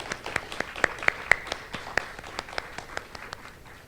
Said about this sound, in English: Can you join me in giving a round of applause to all of our partners that are here today?